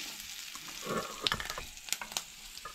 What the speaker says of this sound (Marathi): तशीच सोय आमी हांगसर भाजून घेवंक जाय